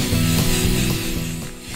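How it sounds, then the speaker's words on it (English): Black spray paint hisses from an aerosol can across a surface being coated for a personalized medal holder, a close, loud continuous spray that eases slightly partway through. "We're now going to spray down our entire surface with our lovely black spray"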